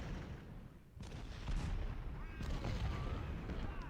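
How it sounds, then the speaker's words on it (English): Artillery batteries firing in the Civil War strategy game Ultimate General, a steady rumble of overlapping booms with a few sharper blasts standing out, fairly quiet and distant. "What a weird target for all these artillery units to be blasting."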